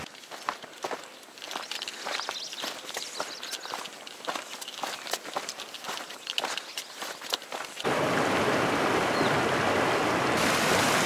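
Footsteps crunching steadily through forest undergrowth beside a small stream, then a loud, close rush of flowing water takes over as the walker reaches the shallow brook, with no talking.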